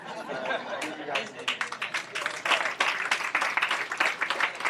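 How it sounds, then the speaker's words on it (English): A crowd at an outdoor grand opening and ribbon cutting claps steadily, the applause building in uneven bursts with scattered chatter and light laughter mixed in, moderately close throughout. "Keep on clapping for Logan one more time, ladies and gentlemen"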